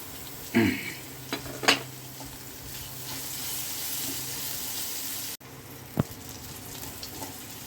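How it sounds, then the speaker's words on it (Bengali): Chopped garlic and ginger sizzle steadily in hot oil in a pan, a continuous close frying hiss broken by a few sharp clinks of a utensil against the pan. "তার সঙ্গে দিয়ে দিচ্ছি রসুন কুচি আর আদা কুচি।"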